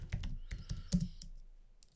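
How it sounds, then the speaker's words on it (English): Quick keystrokes on a computer keyboard as a search query is typed, a short burst of about eight distinct clicks in the first second and a half, then fading to near silence. "If I were to type in Craft"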